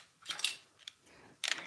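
Kitchen scissors snip through cooked broccoli over a bowl, three quiet, short crisp cuts spaced apart against near silence.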